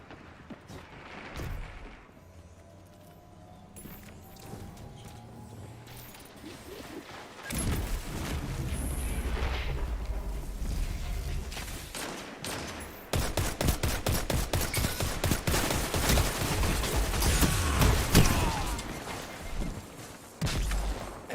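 Rapid gunfire in a Destiny 2 Control match, quiet at first, then sustained automatic bursts that grow louder and denser, with rattling volleys dominating the second half.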